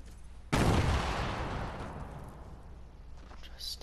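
A single loud gunshot or blast from a video game at close range, with a sharp onset and a long decaying rumble, followed by faint distant activity.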